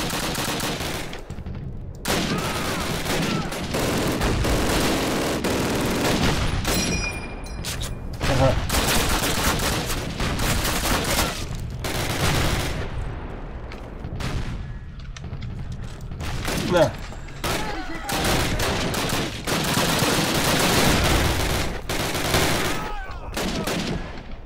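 Dense bursts of MG-42 machine gun fire in Call of Duty 4 rattle almost continuously, mixed with booms and game effects, while voices talk over the battle.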